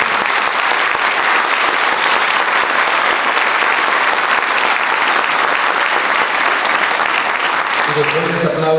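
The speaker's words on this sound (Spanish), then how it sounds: "por favor pido un aplauso para todas las empresas que están representadas por todos ustedes aquí" A large audience at a corporate workplace awards event applauds steadily and loudly, a dense unbroken wash of clapping from start to finish with no pauses.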